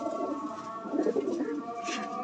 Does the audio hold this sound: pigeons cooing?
yes